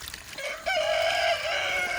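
Backyard hens cluck loudly and close by, with a rising, drawn-out call that holds for most of the moment, alone and without any voices.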